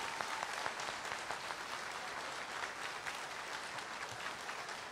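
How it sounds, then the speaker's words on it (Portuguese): A Christian worship gathering's audience applauds, a faint, distant wash of many hands clapping that stays even for several seconds. "Se você concorda comigo, dê um aplauso aí."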